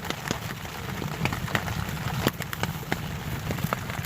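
Rain patters steadily on a hot tent with a woodstove inside, a dense close hiss broken by scattered sharper drop taps, with no voices.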